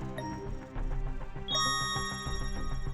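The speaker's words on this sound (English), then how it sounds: "Oh, that loud ringing." A loud, sustained high ringing tone in the video game Catherine starts around midway and holds steadily over busy game music, with no talk.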